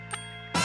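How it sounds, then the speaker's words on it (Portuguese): A bell in a SpongeBob cartoon gives a brief bright ding over a low sustained tone, followed at once by a louder burst of sound. "toca o sino"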